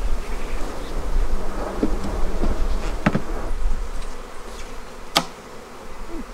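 Honeybees work inside an opened hive box during a yard inspection of a queenless colony, a steady close buzzing drone with occasional louder passing buzzes and a few small knocks.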